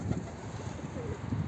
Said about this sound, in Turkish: Büyük ihtimal bu kuş oyunlu bir kuş